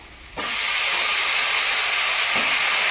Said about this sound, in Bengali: কুমড়ো আর আলু একসঙ্গে ভেজে